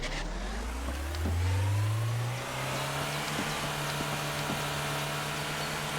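A car in Trader Life Simulator 2 drives off, its engine note climbing through the gears and then holding a steady hum, close and continuous with no talk.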